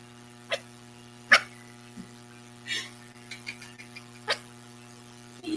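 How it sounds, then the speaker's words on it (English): A puppy gives a few short, sharp barks spaced apart outdoors, faint against a steady background hum. "are you barking for?"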